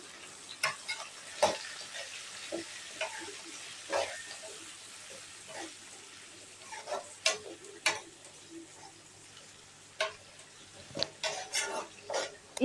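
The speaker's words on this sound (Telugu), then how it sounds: "టమాటోస్ బాగా మగ్గిపోయేంత వరకు బాగా వేపుకోవాలి" Tomatoes fry with onions in a pan for a dried prawn and okra curry, a soft steady sizzle broken by repeated scraping stirs and light spoon taps throughout.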